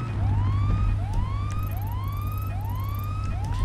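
Police siren from a GTA video game patrol car, a rapid series of five rising wails at a steady rhythm over a low rumbling engine drone, loud and near, with no voices.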